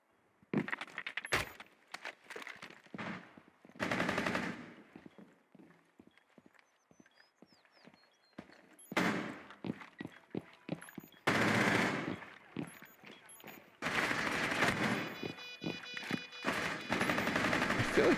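Bursts of automatic gunfire from the video game Rainbow Six Siege rattle in repeated loud close volleys, separated by quieter gaps with single shots and scattered clicks.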